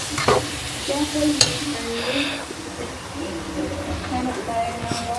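Ingredients sautéing in a pan for a quick soup, a steady sizzle and hiss with stirring scrapes, while a person talks over the cooking.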